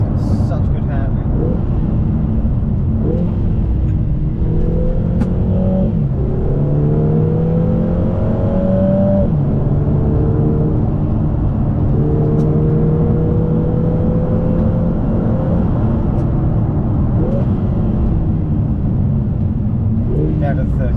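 A Lotus Emira 2.0 four-cylinder sports car drives along a road with a steady, loud engine drone and rising and falling gear pulls, heard from inside the cabin under continuous talk.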